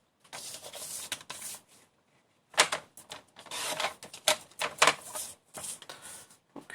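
Paper pieces are cut for a handmade pink mini album, making crisp, close snipping and rustling bursts in irregular clusters, with a brief quiet pause partway through.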